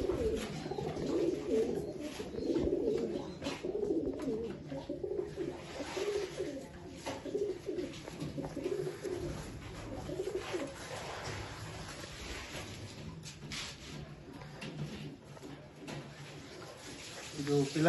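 Old-line pigeons coo steadily in a low, throaty rhythm for sale in Bangalore, with a layered murmur of several birds under faint talk and outdoor noise.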